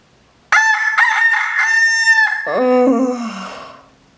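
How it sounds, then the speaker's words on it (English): A rooster crows loudly and close at a morning farmhouse, one long, strident call that rises, holds and then falls away into a trailing, wavering tail. "Why in tarnation is the rooster singing so loud in the morning?"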